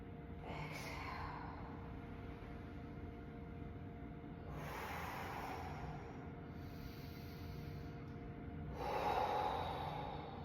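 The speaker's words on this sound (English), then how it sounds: "I'm inhaling. I'm exhaling." Slow, deep qigong breathing: three soft, drawn-out breaths in and out spaced a few seconds apart, close but quiet over a low, steady background hum.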